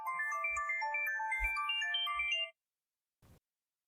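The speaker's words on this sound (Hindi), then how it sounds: "किसका फोन आ गया? सानिया का फोन है" A mobile phone ringtone plays a bright, repeating electronic melody for about two and a half seconds at night indoors, then cuts off, followed by a brief rustle.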